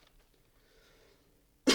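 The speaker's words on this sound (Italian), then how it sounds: "c'ho un po' di tosse, aspettate un attimo che tossisco in pace" After near silence, one short, sharp cough bursts out loudly at the very end.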